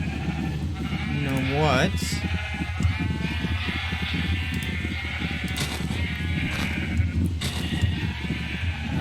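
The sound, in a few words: sheep bleating in Minecraft video game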